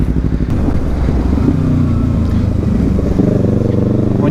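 A Kawasaki Z300 motorcycle rides along with its engine droning loud and close, a steady throbbing rumble that holds constant throughout with no break, wind and road noise mixed in.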